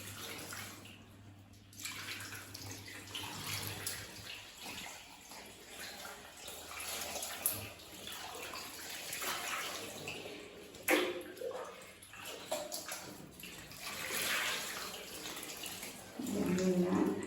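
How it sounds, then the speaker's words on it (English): Water poured over a baby during a bath, a soft continuous splashing and trickling close by that swells and eases in waves, with faint background hum and brief gaps throughout. "So we first pour water on her body, and then we go ahead with her head and then her face."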